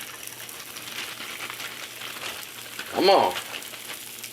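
Beef strips sizzling as they drop into a hot skillet for a Mongolian beef and peppers stir fry, a steady broadband frying hiss with a brief voice speaking over it near the end.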